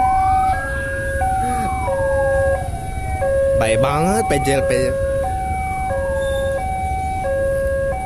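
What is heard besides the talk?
ambulance siren at a railway crossing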